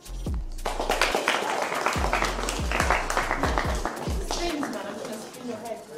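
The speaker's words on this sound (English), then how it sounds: "Stop clapping." Hands clap in uneven bursts through a UK street-challenge gathering, the slaps sharp and close, mixed with chatter and background music.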